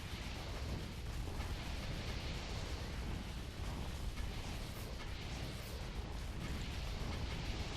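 A meteor strike in the Defense Grid 2 alien-defense game lands as a dense, steady rumbling roar of explosion and debris that fills the whole stretch at moderate loudness, with no voices.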